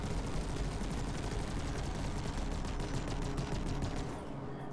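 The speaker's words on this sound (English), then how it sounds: "What do you think of the animation and sound of the multi-cannons?" Large multi-cannons fire in the space game Elite Dangerous, a dense, continuous rapid-fire barrage of booming shots that runs loud and steady throughout, easing slightly in the last moment.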